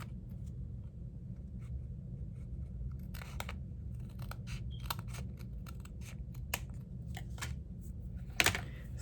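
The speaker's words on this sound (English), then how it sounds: "I'm just gonna trim this little piece here." Scissors trimming a small piece of patterned paper from a 6x6 pad, a few quick close snips over a low steady background rumble, no talking.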